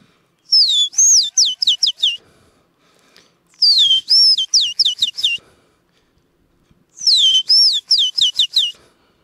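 Someone whistles an imitation of a rufous-collared sparrow's song, a rising note followed by a quick run of descending chirps, repeated three times with short pauses between.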